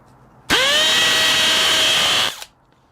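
A DeWalt Flexvolt Advantage hammer drill on speed 3 whines up to speed and grinds steadily into concrete with a 7/8-inch bit for about two seconds, loud and close, then stops abruptly.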